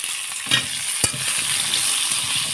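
Potatoes fry in a pan with a loud, continuous sizzle. A utensil stirs them with a couple of brief scrapes and knocks, close up and without talk.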